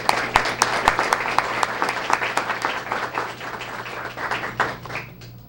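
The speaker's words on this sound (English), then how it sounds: "let's give them all a great round of applause" Audience applause at a school Student of the Month ceremony, with steady clapping and a few sharp nearby claps, fading out into quiet at the end.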